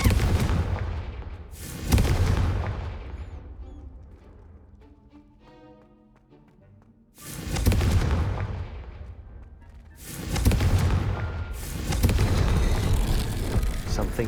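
Confringo blasting-curse explosions in Hogwarts Legacy: several loud, sharp bursts, one near the start and a cluster later, each trailing into rumbling noise, with quieter tonal game sound in a lull between them.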